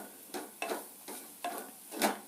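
Spice powder frying in ghee in a very hot pan for tomato kurma, stirred in five short scraping bursts with a soft sizzle between them, close and moderately loud, no talking.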